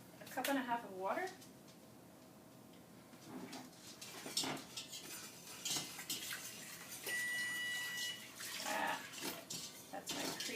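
About one and a half cups of water pouring into a saucepan while making lemon meringue pie filling with cornstarch, a steady soft trickle and splash in a home kitchen, faint, with light clatter and brief voices around it.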